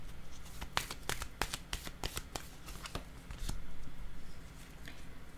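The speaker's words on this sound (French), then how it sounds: "Attendez, je vais déposer une autre carte ici." Playing cards are handled and laid down on a table, giving a series of close, soft slaps and shuffling snaps spread unevenly over several seconds.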